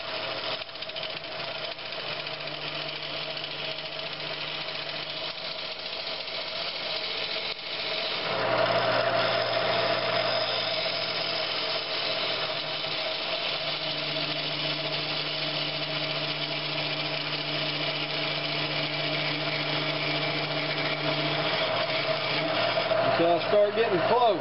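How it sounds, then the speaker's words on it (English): A wood lathe turns a vase blank glued up from scrap wood, a steady motor hum with a rising, rougher cutting roar as the tool engages midway, continuous and close with no talk. "So we're gonna start turning this thing down"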